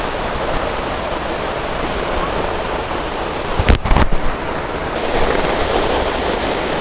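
The Cikarim waterfall in Dieng, next to a hillside shrine, gives a steady, loud, broad rush of falling water throughout, with a brief burst of handling noise near the middle.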